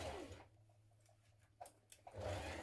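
A sewing machine stitches a garment seam in two short whirring runs at the start and end, with a quiet pause and a few soft clicks between them.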